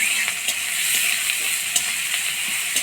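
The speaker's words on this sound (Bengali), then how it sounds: "পেঁয়াজটা হালকা ভাজা হয়ে আসছে।" Chopped onions frying in oil with dried red chillies, whole garam masala, cloves, cinnamon, cardamom and bay leaves, a steady close sizzle broken by regular scraping stirs of a spoon in the pan, no talking.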